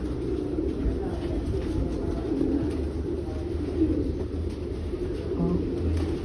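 Pigeons coo softly and repeatedly in a low murmur against a steady background hum, fairly faint, with no clear voices.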